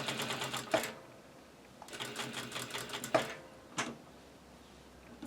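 Sewing machine stitching darts in short bursts: two runs of rapid mechanical clatter separated by a quiet pause, with a sharp click between, then a brief final burst, fairly faint and with no talking.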